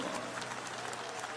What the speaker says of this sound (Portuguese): Um aplauso forte damos a Cristo.